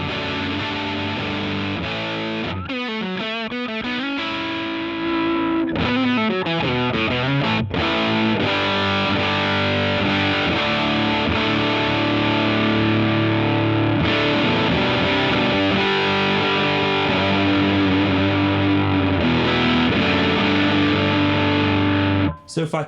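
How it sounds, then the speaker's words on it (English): Heritage H535 electric guitar played through a Rare Earth overdrive pedal, sustained distorted chords and riffs with a thick, saturated tone, a couple of short pauses early on, then continuous and loud. "Let's carry on with some tones though. I've got my Heritage H535."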